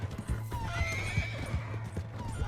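Horse hooves clip-clop steadily in Red Dead Redemption 2 while a whinny rises above them, loud and close, with no talk over it.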